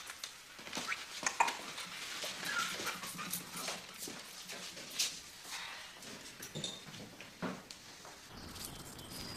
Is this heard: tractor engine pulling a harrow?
no